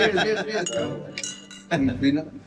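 Drinking glasses clink together in a toast among friends, with a few bright, sharp chimes cutting through the quiet and a bit of room sound around them.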